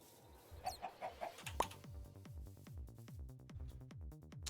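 Chickens in Minecraft give a few soft clucks near the start, followed by a rapid run of short repeated clicking or popping sounds that continues steadily to the end, with no talk.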